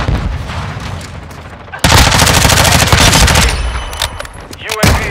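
Machine gun fire erupts in Modern Warfare 2, loud sustained rapid bursts that dominate the middle stretch after a quieter start, ending in a few sharp, scattered shots.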